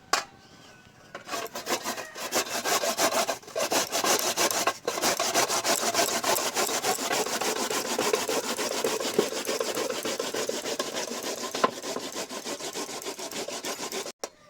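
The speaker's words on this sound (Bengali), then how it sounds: "মানকচু বা কুমড়ো যেটা দিয়েই আমরা বড়ি দিই না কেন এই থালার পিঠেই কিন্তু ঘষে নিই" Elephant-foot yam (mankochu) is grated against the rough underside of a plate in a home kitchen. Fast, rhythmic rasping strokes run steadily and close for many seconds after a brief start, with no speech.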